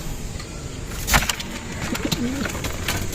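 Racing pigeons kept at a home loft during a derby race season coo in soft low repeated calls, with a brief flutter of wings and background hiss.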